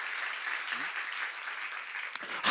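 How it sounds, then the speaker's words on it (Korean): Congregation clapping during a church seminar sermon, a moderate, even patter of hands that carries on without pause, with a brief voice sliding in faintly and a sharp knock near the end. "박수하세요"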